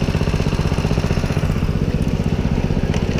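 A small water pump engine powering a high-banker at a gold mine idles steadily, a loud, close, rhythmic putter with a low throbbing pulse and no speech over it.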